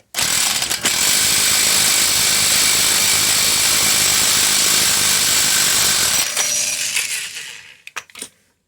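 An impact wrench runs a front CV axle bolt tight on a BMW E60/E61 xi all-wheel-drive car, a loud continuous rattling hammer for about six seconds, then slowing and stopping with a few final clicks.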